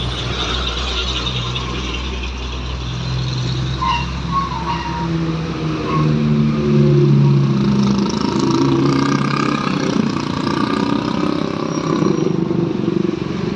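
Engine of a bus in Aceh revving hard as it accelerates, a loud, steady low roar that rises and swells through the middle, close by, with no talk over it.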